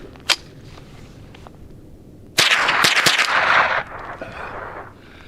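Shots from an ADLER RF224 rifle firing Remington Golden Bullet ammunition, one faint early crack followed by a loud burst of several sharp reports in quick succession outdoors, then quieter rattle.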